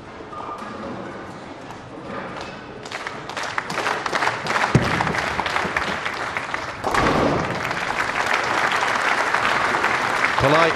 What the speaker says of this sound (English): Polite applause there for Bill O'Neill